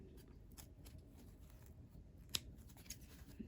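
Scissors snip through folded fabric in a few soft, close cuts with light rustling of cloth, quiet with no talking.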